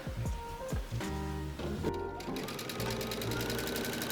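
A sewing machine stitches quilt strips for a rail fence quilt made from jelly rolls, its needle chattering in quick rhythmic bursts that stop briefly and restart, close and fairly loud.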